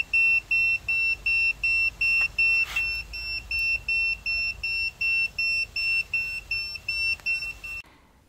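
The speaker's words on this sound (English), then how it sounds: "we are getting a disconnect on the tablet. The alarm is very loud." A ThermoPro TempSpike wireless meat probe's disconnect alarm sounds from a tablet as a loud run of high, evenly spaced electronic beeps, about fifteen in quick rhythm over eight seconds, with no one speaking.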